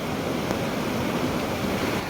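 A river rushes steadily at water level, a broad, continuous wash of flowing water with no talking, loud and even throughout.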